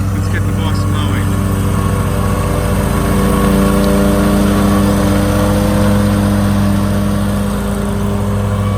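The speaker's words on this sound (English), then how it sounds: "let's get the boss mowing" A lawn mower runs in a garden, its engine droning steadily and loudly throughout with a slight rise in pitch partway through.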